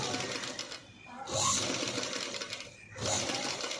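A sewing machine stitches piping onto a blouse lining, a close, fast mechanical whirring and clatter that runs in two surges with a short lull between them.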